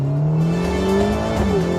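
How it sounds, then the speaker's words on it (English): A Ferrari Portofino M with its V8 engine and roof open revs up with rising pitch, then shifts gear with a quick drop before climbing again, loud and close with no talk over it. "Both from the engine and from the gear shifting, especially with the roof open."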